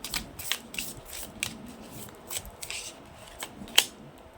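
Tarot cards being shuffled and drawn make quiet, close papery flicks and riffles in irregular bursts, with one crisp snap near the end.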